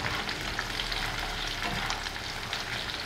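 An egg fries in a pan with a steady, close hiss and sizzle, dense crackling sustained evenly for a few seconds with no voices.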